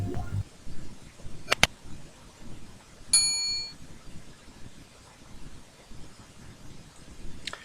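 A notification bell sound effect rings with a couple of sharp metallic dings, each clear and brief, separated by quiet stretches with a faint background hiss.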